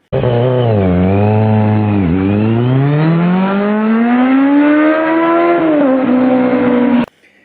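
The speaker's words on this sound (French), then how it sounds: "je vais vous donner quand même un petit coup de moto enragé ces motos" A loud, close motorcycle engine revving up and down in one sustained growl for several seconds before cutting off abruptly.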